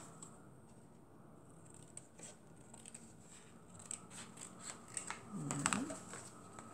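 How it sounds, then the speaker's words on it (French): Scissors snip through paper cardstock while a simple handmade greeting card is trimmed; quiet, close cuts become denser and louder near the end. "je vais juste couper comme il faut ici. Sur droit."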